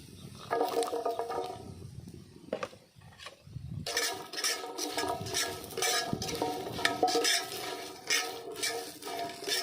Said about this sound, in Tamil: அடுத்து இஞ்சி பூண்டு ரெண்டையும் வதக்கிடுவோம்.